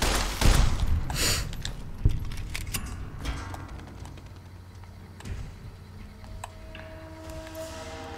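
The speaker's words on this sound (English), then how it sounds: "It's so much easier with Eddie shooting at them," A companion named Eddie fires at enemies in Fallout: New Vegas, producing a loud cluster of sharp shots early on, then scattered lighter cracks and clicks trailing off behind other game noises.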